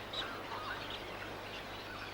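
Many birds call and chirp from trees along the Western Port shoreline, a steady faint chorus of small overlapping tweets at a distance with no single bird standing out.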